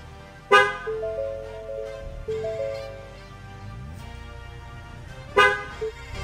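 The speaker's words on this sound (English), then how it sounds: "All right, the vehicle's honked." Two short horn honks from an ICON T8 vehicle a few seconds apart, near and loud, with electronic tones sounding between them during tire pressure sensor relearning.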